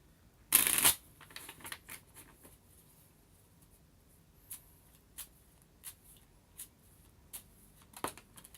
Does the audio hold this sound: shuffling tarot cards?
yes